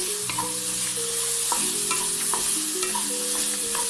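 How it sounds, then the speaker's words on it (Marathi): Onion frying in a pan with garlic and chilli hisses in a constant close sizzle, punctuated by sharp pops and the clink of stirring against the pan, with no talking. "कांदा पण व्यवस्थित फ्राय करून घ्यायचा याच्यामध्ये"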